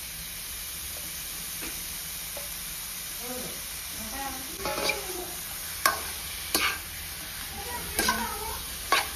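Chicken meat fries with browned onions in a pan under a soft, steady hiss, with occasional clattering stirs growing more frequent toward the end, and faint voice-like sounds in the middle.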